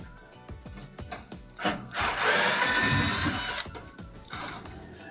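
A power drill works Phillips screws out of the control panel of an Estate dryer, giving a run of rapid ratcheting clicks, then a loud sustained whir lasting over a second before it winds down.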